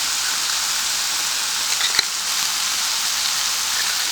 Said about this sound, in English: Fry until the tomatoes are soft.